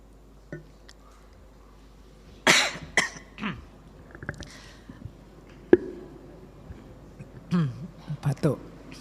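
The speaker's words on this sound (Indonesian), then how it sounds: "Batuk." A man coughs several times during an Indonesian-language talk on philosophy, with sharp, close coughs and throat-clearing scattered between brief pauses and a few quiet words.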